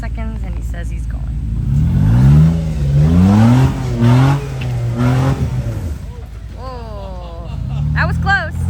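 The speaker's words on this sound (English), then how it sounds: "he warmed up the tires for a couple seconds and he says he's going." An off-road vehicle at a muddy, rocky Missouri wheeling event revs its engine in rising and falling pulls while its tires spin, loud and close, with people talking and shouting over it.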